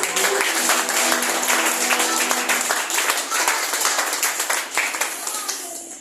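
A church congregation claps to acclaim the Lord, a dense steady burst of many hands sustained throughout, close and loud, with voices mixed in beneath.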